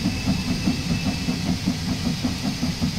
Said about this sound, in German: Aber klingt schon nicht schlecht, die Dampflok,